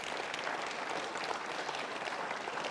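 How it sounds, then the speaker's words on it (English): A crowd applauding steadily at a Welsh Conservative Conference, dense clapping at moderate volume throughout, no voices standing out. "Give them a round of applause"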